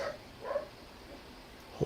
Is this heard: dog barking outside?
yes